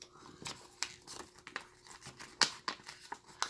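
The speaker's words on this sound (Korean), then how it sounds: "이 상태에서 반으로 접어주세요" Stiff paper is folded in half for origami, giving a series of sharp crinkles and creases, close and fairly quiet, spaced irregularly over a few seconds.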